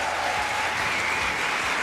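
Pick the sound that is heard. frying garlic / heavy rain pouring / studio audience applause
studio audience applause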